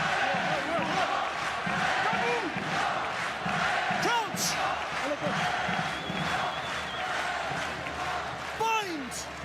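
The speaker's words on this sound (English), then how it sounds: "the crowd are in full voice" Rugby stadium crowd at a Toulon v Saracens Champions Cup match, a continuous loud roar of voices with chanting and whoops swelling throughout, under a commentator's talk.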